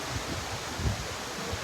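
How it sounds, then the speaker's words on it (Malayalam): Wind gusting through leaves outdoors on a TV serial location, a soft steady rustle with a slightly stronger swell near the middle, faint and continuous. "നല്ലൊരു കാറ്റ് വന്നു."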